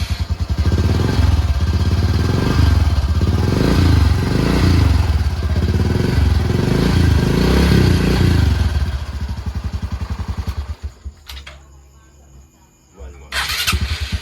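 A motorcycle that three repair shops gave up on is cranked and started after the key is switched on and the fuel pump primes, its engine running loud and close with a throbbing idle for about ten seconds before cutting out and briefly restarting.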